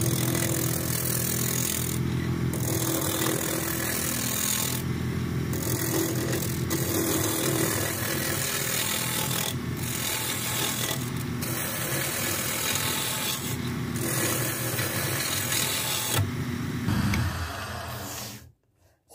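A woodturning lathe rounds a beech blank with a roughing gouge: a steady motor drone runs throughout, with repeated bursts of rough, scraping cutting, then winds down near the end.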